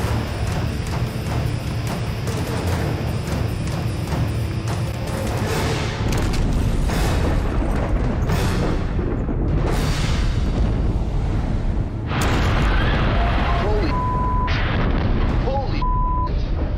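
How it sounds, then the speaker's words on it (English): Pressurized propane gas tanks explode at a factory in loud, continuous rumbling blasts and roaring booms, with crackling bursts layered over a dense, heavy background, sustained throughout. "Explosions spread fires across the entire factory grounds."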